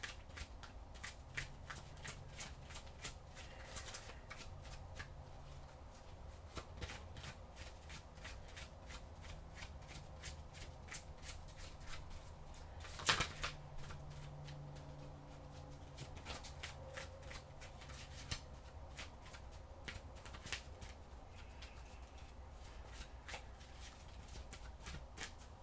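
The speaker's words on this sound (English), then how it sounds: "If you see me just kind of messing around with the cards, that's what's going on." Oracle cards being shuffled and handled for a Scorpio tarot-style reading: steady papery riffling and flicking for the whole stretch, with one louder slap near the middle, at a close, moderate level and no talk.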